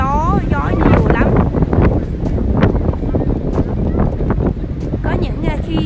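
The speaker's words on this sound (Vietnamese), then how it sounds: "Hôm nay gió nhiều lắm." Strong outdoor wind buffets the microphone in a loud, continuous rumbling roar while someone talks over it throughout.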